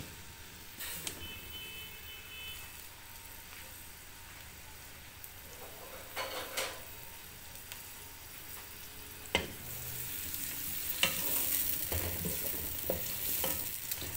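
Chopped onions fry in oil with a quiet, continuous sizzle, broken by occasional sharp scrapes and clinks as they are stirred in the pan.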